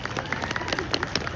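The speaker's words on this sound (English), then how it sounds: "How about a huge round of applause for Isaac?" Outdoor crowd applause for a street performer, a brief burst of scattered claps nearby, fairly loud and uneven.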